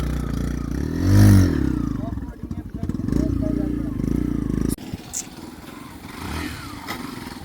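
A motorcycle ridden off-road, its engine swelling loudly near the start then chugging and clattering over rough ground, with rattles and scrapes and a bumpy, uneven drone, voices talking over parts of it.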